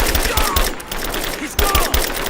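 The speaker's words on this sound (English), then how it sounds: "Open fire! Give me suppressing fire!" Suppressing gunfire in the video game Rise of the Tomb Raider: rapid, close automatic bursts crackle continuously, with a brief dip midway before the firing resumes just as loud.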